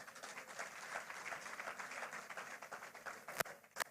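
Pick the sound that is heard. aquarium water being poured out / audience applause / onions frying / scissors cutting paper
audience applause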